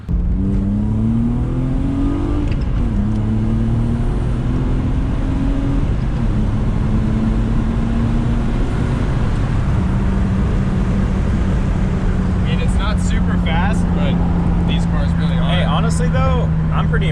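A BMW E36 six-cylinder car accelerates hard, its engine note climbing loudly and steadily through the revs with a sustained, rising drone that carries on throughout.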